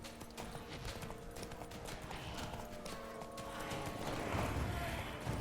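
Horse hooves in the video game Witcher 3 clatter in a quick, steady galloping rhythm, close and continuous, growing slightly louder over a few seconds.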